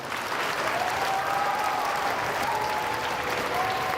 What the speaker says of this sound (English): let's give the school a round of applause